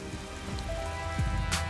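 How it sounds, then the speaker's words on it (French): Rain patters on a campground in a steady, close wash of drops, with a few louder individual drips and a soft hiss, and no voices. "La pluie tombe jusqu'au soir sans s'arrêter."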